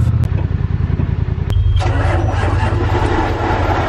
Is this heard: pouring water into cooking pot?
no